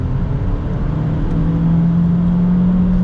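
A Honda Civic with a 2-liter engine accelerates, its engine note rising steadily in pitch as a smooth, loud whir from inside the cabin, with no talk.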